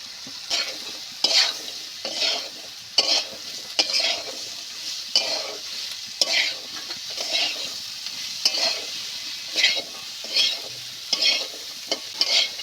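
Potatoes stir-fry in a pan of cooked-down spice masala. Rhythmic scraping strokes, roughly one per second, sweep through the pan over a constant background sizzle.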